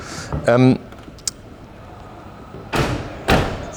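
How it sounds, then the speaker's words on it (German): The rear door of a Fiat Ducato motorhome is swung shut with two solid, close thuds in quick succession, after a short vocal sound and a faint click in an otherwise quiet space. "Wenn du mal gerade die Tür mal bitte zumachst hinten"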